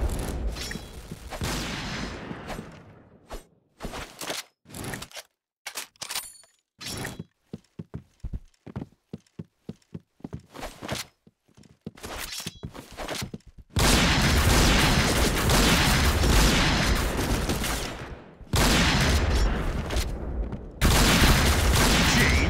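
Gunfire in a shooter video game comes as bursts of rapid shots with gaps between them, then gives way to long stretches of loud, dense noise.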